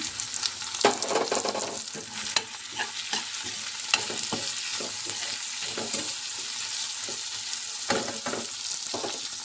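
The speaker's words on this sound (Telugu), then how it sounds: "ఇప్పుడైతే టమాటా కూడా వేసేస్తున్నాం" Tomatoes fry with ginger and garlic for a mushroom curry, giving a loud, crackling sizzle broken by frequent scrapes and clinks of a stirring spoon against the pan.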